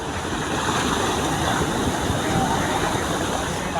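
Water runs steadily at a well, a broad continuous rushing wash that stays loud and even throughout with no break.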